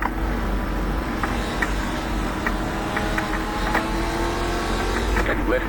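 Race car engine in a racing sim game, shifting gears: a loud, continuous motor drone with small bumps at each shift, with occasional voice under it.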